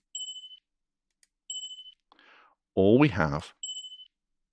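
A bright bicycle bell dings three times, widely spaced, each ring fading quickly; a person speaks briefly between the rings.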